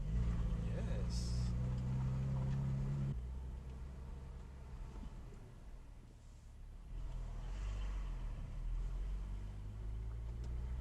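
A single car passes on an empty city street, its low engine rumble loud at first, then fading and swelling again, with a person talking quietly over it.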